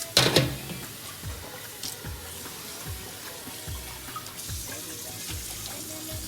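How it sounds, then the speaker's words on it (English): Cold tap water runs steadily over freshly cooked rice for tahchin, a continuous splashing stream with a sharper burst of spray near the start. "Use the cold water to rinse it."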